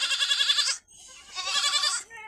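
Young goat kids bleat twice in long, wavering cries with a brief pause between them, close and clear, with no one speaking.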